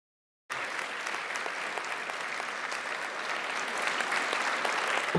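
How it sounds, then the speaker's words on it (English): A large graduation audience at City of Glasgow College's winter ceremony applauds family and friends, a dense, steady roar of clapping that begins abruptly and swells slightly louder toward the end. "we'll give them a huge round of applause"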